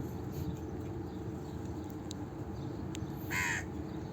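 A pet crow caws a few times beside a canal in Dubai over a steady low outdoor hum, with a sharper, louder call near the end.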